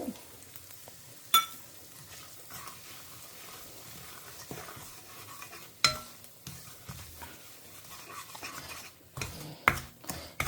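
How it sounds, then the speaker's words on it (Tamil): Sambar powder, turmeric and salt frying in hot oil in a home kitchen, a soft steady sizzle with scattered stirring scrapes and a few sharp clinks of utensil against pan. "இந்த எண்ணெய் நல்லா சுடுற எண்ணெயில் அந்த பொடியை போட்டு எல்லாமே நல்லா பொரிஞ்சு வாசனையாக இருக்கும்"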